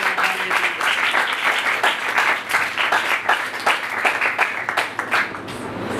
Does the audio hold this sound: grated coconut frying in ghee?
no